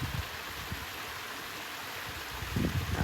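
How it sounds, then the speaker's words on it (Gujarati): The Pipariya waterfall roars as a steady, broad rush of falling water heard from nearby, with a few low bumps and handling noises at the start and near the end, and no talking. "જો મિત્રો આવો કંઈક આપણો ધોધ છે પીપરિયાનો."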